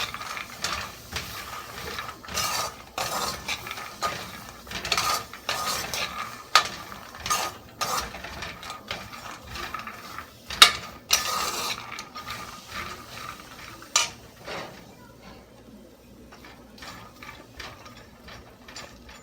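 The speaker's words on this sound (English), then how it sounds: "Roast the peanuts until it gets dry." Peanuts being dry-roasted in a pan are stirred with a utensil, giving irregular clattering scrapes and rattles that come and go for around fifteen seconds before fading to quieter, sparse clinks.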